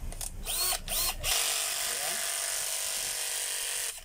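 A newly replaced small electric motor whirs steadily with a high buzzing drone after a few short stop-start bursts, close and continuous, with brief voices at the start.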